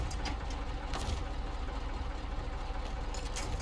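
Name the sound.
truck engine starting and idling in SnowRunner video game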